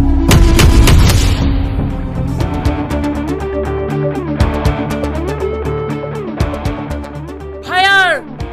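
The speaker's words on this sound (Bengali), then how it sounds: "কে গুলি মেরেছে" Gunfire in a dramatic film scene about a student protest: loud booming shots and crackling bursts amid music and shouting voices, with a sharp swooping effect near the end.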